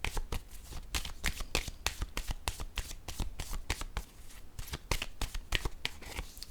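Cards being shuffled for a tarot-style reading, a quick run of crisp riffling bursts repeating steadily, close and fairly quiet, with no voice.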